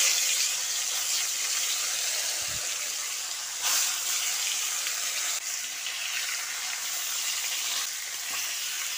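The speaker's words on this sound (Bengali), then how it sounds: "এবার গরম তেলে ম্যারিনেট করা মাছগুলো একে একে দিয়ে দিচ্ছি" Marinated fish pieces fry in hot oil, giving a steady, moderately loud hiss with a few faint clicks and knocks, no voices.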